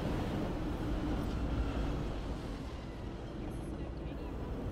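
A train in the video game Cyberpunk 2077 gives off a steady, dense rumble that fills the whole clip. The rumble stays at an even loudness with no clear breaks.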